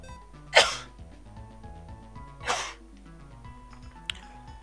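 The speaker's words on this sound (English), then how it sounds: "I'm gonna sneeze." Two loud, close sneezes, about two seconds apart, burst over steady chiptune game music from Pokemon Platinum, followed later by a brief sharp click.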